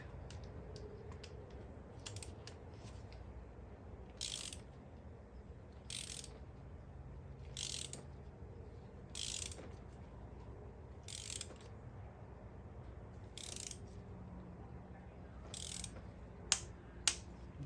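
A torque wrench ratchets in short clicking bursts, about ten spaced clicks that sharpen toward the end, while tightening the PCV valve bolts on a 2013 Volkswagen GTI MK6, quiet and close with no talking.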